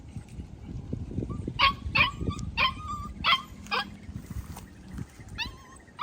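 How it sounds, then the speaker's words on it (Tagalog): Several short, high yelping whimpers from a dog come in quick bursts over a low, busy background rumble. "Umiyak yung aso."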